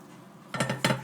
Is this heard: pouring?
yes